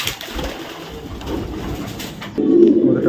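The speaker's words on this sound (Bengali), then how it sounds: "সেই রকম একটা নর কবুতর" A male racing pigeon coos close by, a low throaty burst that swells louder toward the end over faint background noise.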